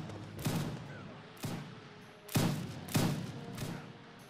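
Musket volleys ring out in the Warsword Conquest mod of Mount & Blade Warband, four or five sharp cracking reports at irregular intervals, each trailing off in a rumble across the field.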